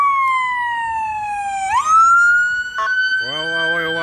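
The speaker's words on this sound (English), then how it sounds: "is that a fire truck coming?" Montreal emergency vehicle siren, identified as a fire truck, wailing close and loud with a steady falling then rising tone, then switching to a fast yelp pattern over street noise.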